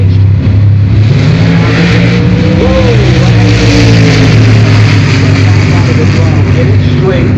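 An NHRA drag racing car launches down the strip with a loud, continuous roar that rises and shifts in pitch, while an announcer talks over it.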